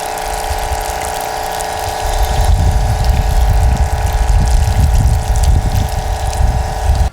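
Water rinses off a 2021 Mustang GT during a wash, a steady loud rushing spray that starts after a pump-like hum and continues alone without talk.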